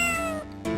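A cartoonish cat meows twice in Phoenix Wright Trilogy, a clear, close, tonal mew followed by a brief dip and a second short cry.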